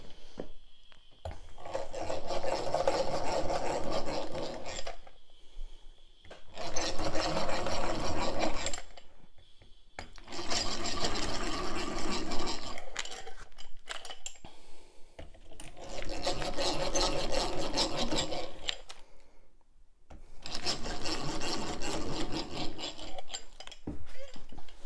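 A drill drives turbo drive screws into hardwood while building a workbench, in five separate whirring, grinding bursts of a few seconds each, close and loud, with short quiet pauses between them.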